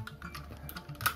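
Plastic parts of a Transformers Generations Fall of Cybertron Soundwave toy (TG-13) being pressed together: a quick run of small, faint, close clicks and ticks, ending in a slightly sharper snap.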